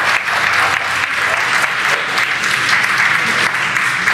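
Crowd cheering and applause in a steady, loud wash right after a SpaceX Falcon 9 booster touches down on a drone ship during a Starlink Group 4-5 launch, with no talk on top.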